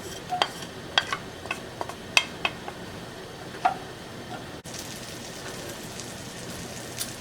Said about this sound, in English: I am sizzling up the butter right now.